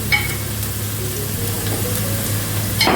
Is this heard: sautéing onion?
yes